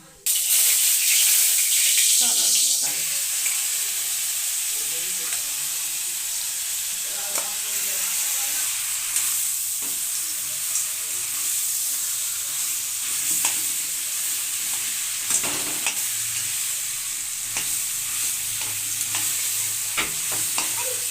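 Tamarind goes into hot oil with browned panch phoron spices, giving a loud, constant hiss and sizzle with scraping stirs throughout.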